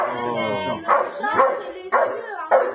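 A playful dog barks and yips in quick, close bursts, about four short sharp outbursts with whiny tones in between, during a family meal at a grandmother's home.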